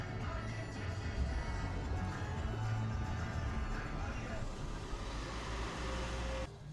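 A 2013 Toyota Prius C engine runs just after an oil change, a steady close low rumble with no clear rise in revs, cutting off abruptly near the end.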